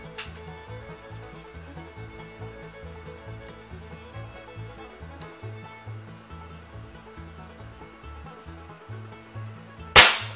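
A Smith & Wesson 78G air pistol fires two sharp cracks indoors, one at the start and a louder one at the end, separated by a low rhythmic background drone.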